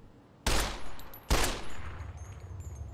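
Two loud, close gunshots from a firearm in Fallout New Vegas, each a sharp blast with a ringing tail, spaced under a second apart, followed by a quieter game ambience.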